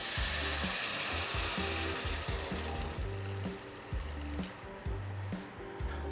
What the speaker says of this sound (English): I'm going to add 1 quart of water.